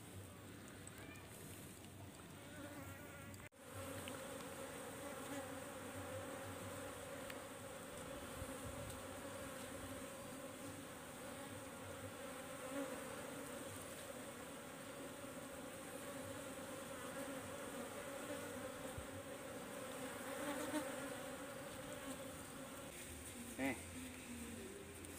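A wild colony of Asian honey bees (Apis cerana) being taken from a tisuk tree gives off a continuous, faint buzzing drone, with a few soft knocks and handling sounds mixed in.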